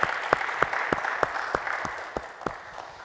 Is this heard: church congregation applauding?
yes